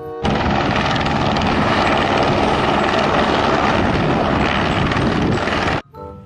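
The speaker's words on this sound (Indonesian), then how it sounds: "Lihat, ada helikopter," Loud, steady whirring drone from a toy helicopter that starts suddenly and stops abruptly after several seconds.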